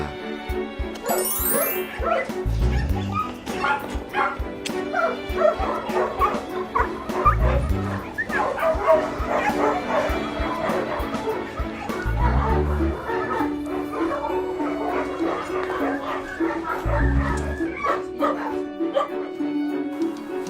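Puppies yip, whimper and bark in a busy, steady stream close by, with people talking over them throughout and low thumps recurring every few seconds.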